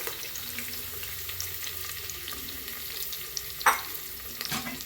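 Sliced onion frying in a pan for soya roast gives a quiet, steady sizzle with a short sharp scrape or clink near the end and no talking.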